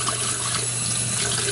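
Water runs from a tap over a circuit board during PCB making: a brief, steady, close rush of flowing water with no pauses.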